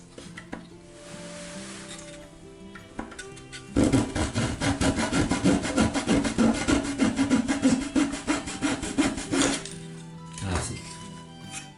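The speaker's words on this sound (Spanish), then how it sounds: "Voy a coger el serrucho." A hand saw cuts off excess wood from an OcCre Flying Dutchman ship model, starting with a few light strokes, then a loud steady run of rapid back-and-forth rasping strokes that slows and stops near the end.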